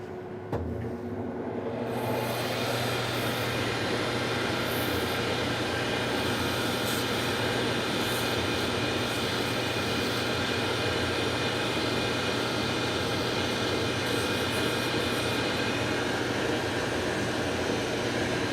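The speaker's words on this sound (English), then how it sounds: "Take it to the grinder, and let's go, baby." A bench grinder in a cobbler's workshop grinds down a shoe orthotic, giving a loud, steady, continuous whir with a bright hiss that runs unbroken from start to finish after a brief spin-up.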